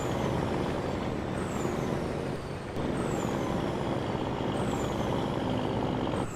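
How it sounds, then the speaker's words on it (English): A heavy truck engine drones steadily in Farming Simulator 22 on a Western Australia map, loud and continuous, with a brief dip midway and faint high air-brake squeals recurring over the rumble; no one talks. "Listen to that truck."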